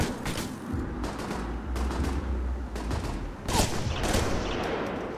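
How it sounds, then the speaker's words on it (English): Rapid bursts of turret gunfire in the video game Alpha Protocol rattle continuously, loud and dense, with heavy low-end thumps from a mounted gun. "I'm using the turret."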